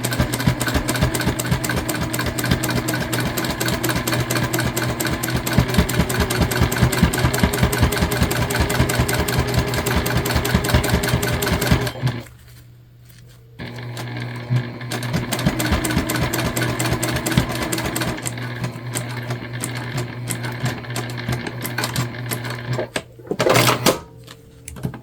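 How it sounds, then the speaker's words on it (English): A sewing machine stitches a puffy dish drying mat pouch with a 1/4 inch seam, running in a fast, steady rhythmic hum for about twelve seconds. It pauses briefly, then runs again more unevenly and stops near the end. "we're gonna sew, like I said, with a 1/4 inch seam allowance"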